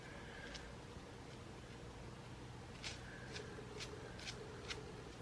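Soft hair and fibre rustling as a synthetic bob wig with bangs is fluffed and shaken by hand, a steady faint swishing with a few brief brushing accents over a constant background hiss.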